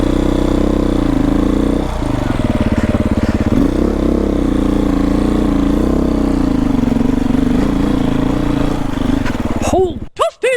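A Beta 500RR-S dirt bike engine labors and revs loudly and steadily while climbing a steep hill, with a brief sharp burst of revving near the end.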